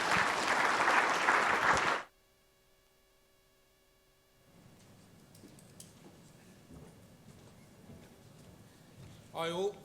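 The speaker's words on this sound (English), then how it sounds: "So round of applause, please, for Wayne." An audience applauds at a waste-industry event for speaker Wayne, with a loud dense burst of clapping for about two seconds that cuts off abruptly, followed by quiet room tone with scattered faint noises.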